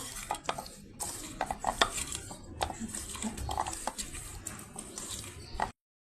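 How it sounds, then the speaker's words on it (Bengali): Lychee being mixed by hand with chili powder in a bowl: a steady run of soft squelching, scraping and clinking strokes close by, with no talk. "ভালোভাবে সুন্দর মতো সবকিছু মেখে নিব।"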